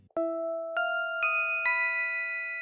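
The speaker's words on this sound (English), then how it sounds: "I added this plugin called Dext, which is modeled after one of the best-selling synthesizers in history, the Yamaha DX7." Bell-like FM synth preset in the style of a Yamaha DX7, four clear ascending chime notes that ring and sustain together, clean and moderately soft, alone without talk.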